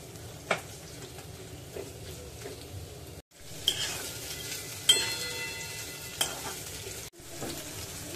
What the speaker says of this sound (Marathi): कांदा आपल्याला पारदर्शक होईल इतका परतायचा आहे